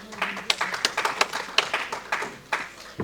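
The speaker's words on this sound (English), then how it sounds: "Please join me in extending them all welcome of applause" At a litigation forum on cross-border arbitration, an audience applauds to welcome panelists with a sparse, uneven round of distinct hand claps, fairly close and moderately loud, with no voices.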